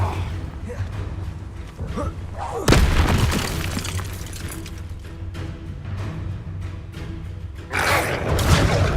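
A Confringo fire spell explodes in the Hogwarts Legacy video game, a sudden loud boom followed by crackling debris, with a second blast near the end, over ongoing game noise.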